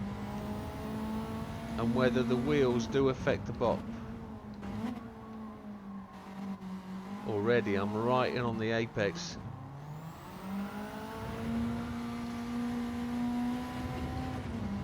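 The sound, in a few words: Honda Civic race car engine accelerating in video game Gran Turismo 7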